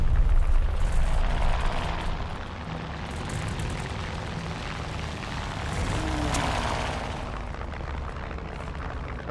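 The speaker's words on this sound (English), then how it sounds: "Oh, I hear a plane." Airplane engine droning in a video game tank battle, a loud continuous rumbling roar that swells slightly midway, with little else over it.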